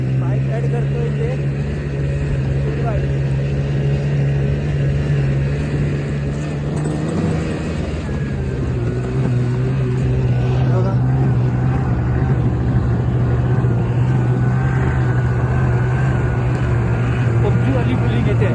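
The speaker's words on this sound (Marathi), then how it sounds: "बाइक राइड करतोय इथे." A motorbike ridden through falling snow at Sonamarg, Kashmir, its engine holding a steady low drone for the whole stretch, with voices talking over it now and then.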